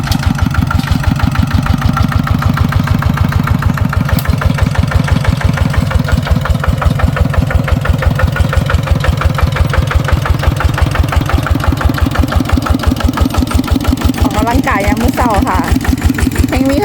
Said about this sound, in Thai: เลยเดี๋ยวรถไถหน่อยมาไถค่ะ